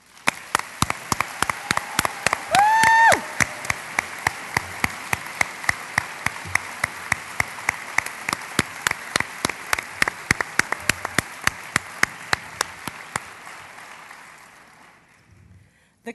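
Indoor audience applauding a graduating leadership development class at a staff event, with a steady patter of clapping that thins out and fades near the end.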